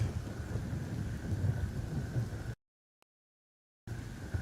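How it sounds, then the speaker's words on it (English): Thunderstorm in the video game Gray Zone Warfare: steady rain hiss with rolling thunder rumble, loud and continuous, cut off by a brief silent gap before the storm resumes. "I love it when they have thunderstorms in this game"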